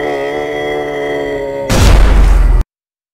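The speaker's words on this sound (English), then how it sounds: "A deafening explosion jolted the air." A loud, sudden explosion in the video game Scrap Garden bursts in after a sustained tonal hum, a booming roar lasting about a second before cutting to silence.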